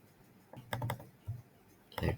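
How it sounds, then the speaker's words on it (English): Soft bursts of computer keyboard typing, quiet and close, as a flow name is entered in Power Automate, with a few short clusters of key clicks separated by pauses. "right now I'm just typing this flow name"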